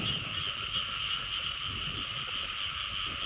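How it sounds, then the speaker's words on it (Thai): Frogs croak together in a thick, unbroken nighttime chorus beside clear water, loud and close, layered over a constant high buzzing hum. "แม่นก็กบ"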